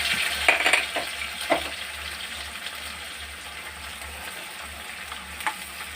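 Onions and ginger-garlic paste fry in a pan for an egg biryani, a steady sizzle throughout with a few stirring scrapes and utensil knocks near the start, no voices.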